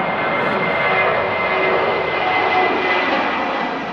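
A very light business jet engine gives a steady, loud, continuous roar that holds even throughout, with no voices over it.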